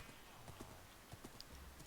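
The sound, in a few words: horse hooves in Minecraft, from a video game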